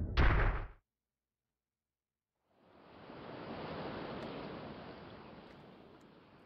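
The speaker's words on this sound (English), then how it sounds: "Heard water running." Running water in the video game The Witch's House, a soft steady rushing wash that starts after a short silence and continues evenly, preceded by a brief louder burst.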